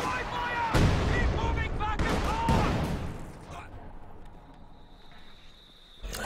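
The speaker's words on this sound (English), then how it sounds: "We have a barrage coming in from this, but as you can see it's spread here" Artillery barrage in the Company of Heroes 2 strategy game: heavy booming impacts roll and rumble in clustered blasts, loud and close at first, then fading to a quieter ambience with a final thump.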